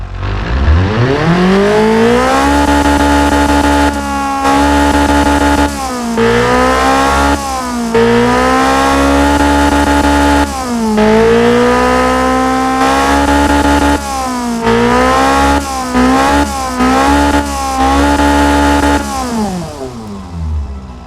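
In the Automation video game, a bored-out Toyota 2T-G 1.6 liter tuner engine making 165 horsepower revs loudly again and again, climbing hard and dropping between pulls with a raspy, buzzy tone and no talk.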